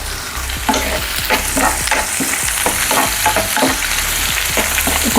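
Garlic frying in a pan with onion for dal tadka, a loud close sizzle broken by frequent quick stirring scrapes against the pan.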